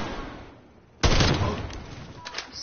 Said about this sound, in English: Someone shooting at you.